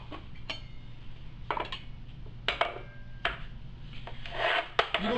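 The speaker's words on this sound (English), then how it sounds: "Let's cut up some vegetables that we're going to need to make the sauce." A knife chops vegetables for a mirepoix on a cutting board for a crab bisque sauce, giving a few separate close taps and scraping rasps over a low hum, no voices.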